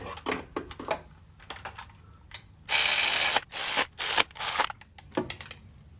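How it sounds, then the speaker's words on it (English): A Milwaukee auto ratchet drives adapter bolts during an LS engine install in an E46, with sharp clicking bursts and several sustained whirring runs, close and loud, no talk. "you guys can just enjoy the good old Milwaukee auto ratchet part of it"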